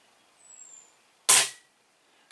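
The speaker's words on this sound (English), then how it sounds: "let me shoot it the gun is completely still" A single sharp air rifle shot cracks close and loud, with a short fading tail, standing out against near silence and a faint earlier tone.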